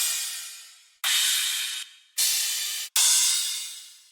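Crash cymbals in a dubstep drum track, three long bright washes struck in succession, each with a sharp attack and a slow, shimmering decay, loud and isolated with no other instruments.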